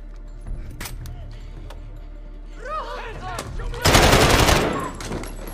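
Gunfire in a modern warfare shooter game: a few scattered shots, then a loud sustained automatic burst close by, amid game effects and voices.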